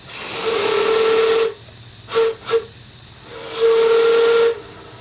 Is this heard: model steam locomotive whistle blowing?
yes